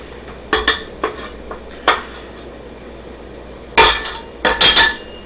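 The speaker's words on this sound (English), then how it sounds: "let's go ahead and scrape the sides of the bowl down" Sides of a mixing bowl scraped down while making German stollen dough, with scattered clanks and scrapes of a utensil against the bowl, some sharp and loud, separated by quiet gaps.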